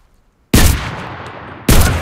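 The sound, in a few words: gunfire from MKB-42 H rifle, Enlisted video game friendly fire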